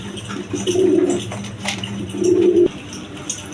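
Two high-flying Giribaz pigeons coo close by, giving two clear rolling coo bursts separated by a quieter pause, with faint background rustle.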